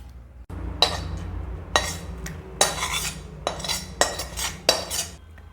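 Carrot halwa is scraped and spooned from a cooking pot into a serving dish, with a series of sharp metallic clinks and scrapes of a utensil against the pot, close and fairly loud, with no talking.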